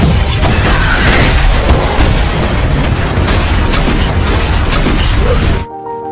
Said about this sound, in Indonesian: datang banyak pasukan menembak dan ingin membombardir rumah mereka